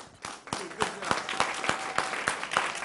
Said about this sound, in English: let's give a round of applause for our moderator